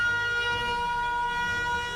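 Warning sirens sounding during a drone attack in wartime, a steady sustained wail with layered tones, loud and continuous throughout with no voices.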